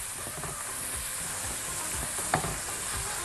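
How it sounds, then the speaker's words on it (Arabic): Spices such as cinnamon, cardamom and black pepper stirred and toasted with sautéing onions in a pan for a chicken and orzo dish, giving a steady close sizzle with soft scraping stirs throughout and one brief sharper clink. "ونقلب البهارات علشان تتحمص وتطلع ريحتها الحلوه مع البصل اللي احنا بنشوحه"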